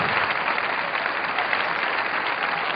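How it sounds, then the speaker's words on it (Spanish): A church congregation claps steadily for Jesus Christ during an evangelical sermon, a dense, continuous wash of applause with no gaps. "Denle un aplauso a Jesucristo."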